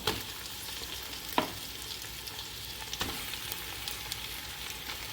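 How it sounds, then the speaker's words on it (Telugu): Washed chicken hits a hot pan for chicken biryani, sizzling and frying steadily with a few sharp stirring scrapes and clinks at close range. No voices. "మనం కడిగి పెట్టుకున్న చికెన్ వేసేసుకుందాం."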